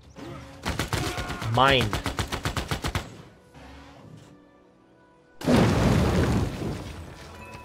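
Infantry trade gunfire in Civilization VI: a rapid machine-gun burst of evenly spaced cracks, a pause, then a loud explosive blast with rumbling fire that fades. A single word is spoken midway.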